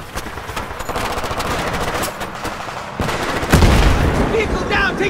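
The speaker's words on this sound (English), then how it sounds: "Vehicle down, taking fire from the left!" Rapid machine-gun bursts and scattered gunshots crackle through a Battlefield 3 ambush in wooded terrain, loud and close, with heavier booming impacts breaking in near the end and shouted voices mixed under the firing.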